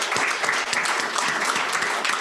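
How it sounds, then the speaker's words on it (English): Audience applause for newly elected officers at a Rotary Club of Chicago annual meeting, a steady round of many hands clapping at moderate loudness with a few sharper individual claps. "So now you can give a round of applause."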